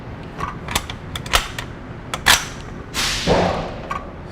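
A Longbranch Lee-Enfield No4 Mk1 rifle in .303 British, loaded with stout ammunition, is worked and fired at 25 yards. Sharp mechanical clicks and clacks come first, then a loud, close blast with a lingering roar as it fades.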